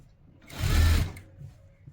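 Close up, a sewing machine runs in one short burst of about a second while it blind-stitches a folded trouser hem, then quiet returns.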